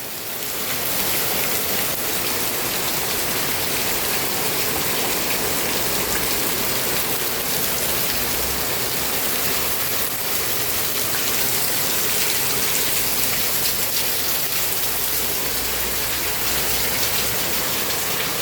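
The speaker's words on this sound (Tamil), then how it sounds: "நிற்க எல்லாமே இருக்கு, அப்படி மழை பெய்யுது." Heavy, continuous rain pours down in Sri Lanka, a dense, even hiss of drops on surfaces that holds steady and loud throughout with no break.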